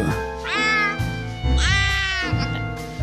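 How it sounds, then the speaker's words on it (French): Two drawn-out, rising cat meows follow one another at close range, loud and clear over a steady low background tone. "Qu'est-ce qu'il a, ce chat?"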